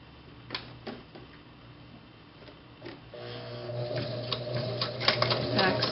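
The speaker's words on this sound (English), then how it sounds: "And then I just go over it once, and then I back stitch over it again." A sewing machine stitches back and forth over a shirred smock top, starting with a few isolated taps and then settling into a steady, close mechanical whirring rattle.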